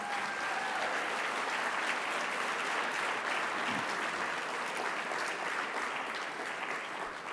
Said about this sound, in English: again, Jim, as your final night as chairman, a big round of applause for Jim Scott.